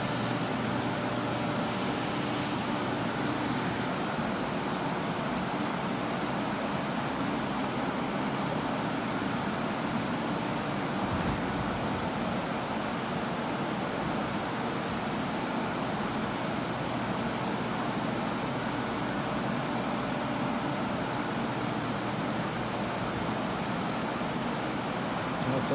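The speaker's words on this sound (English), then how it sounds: "now I'm using the flush wand, and I'm starting to actually push out a lot of this urine" Flush wand rinsing urine out of a rug in a rug-cleaning shop, a steady, loud broadband rush of spraying water and suction that runs unbroken throughout, with a brighter hiss at the very start.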